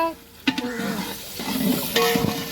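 Green chilies and tomatoes fry in oil in a pan while making Tamil Nadu style mutton biryani, a steady sizzle broken by sharp clanks and scraping stirs of a utensil, with a person speaking nearby.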